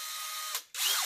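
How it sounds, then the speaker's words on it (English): A drill bit bores into a Victorinox survival sheath with a high, steady whirring grind, then a short pause before the drill spins up again, loud and close. "I'm having to use a drill bit for this part"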